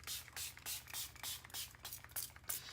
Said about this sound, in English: So I'm just going to spray this with water.